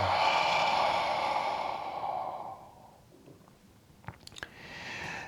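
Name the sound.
exhale through open mouth during breathing exercise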